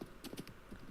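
Horse hooves clip-clopping in a Nintendo Switch 2 game, a short quiet run of about four quick hoof knocks behind the listener, faint and close together.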